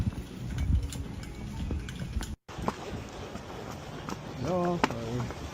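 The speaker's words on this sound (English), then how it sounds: "Get out of the store with a horse." Horse hooves clip-clop across a hard store floor in a fast, uneven patter, heard under people talking nearby.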